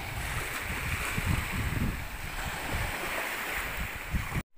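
A constant roar of strong sea waves and wind near an island, with low rumbling surges throughout and a sudden brief cutout at the very end.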